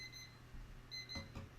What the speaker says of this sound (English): Sorry, timer's going off.